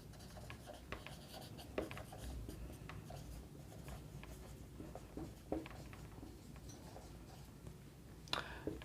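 Handwriting with a pen on paper while working a maths problem, soft scratchy strokes and taps in irregular bursts over a low background hum.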